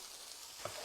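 Onions sizzling as they hit hot coconut oil, part of a spiced Jamaican-style ground beef filling with garlic and ginger; a faint steady fry with one brief louder sizzle burst near the end.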